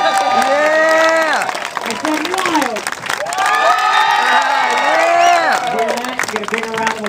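Crowd at a beach-trip kids' trick show cheers and applauds loudly and steadily, with shouts and whoops over the clapping and a presenter's voice talking over it throughout.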